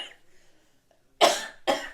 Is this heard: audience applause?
no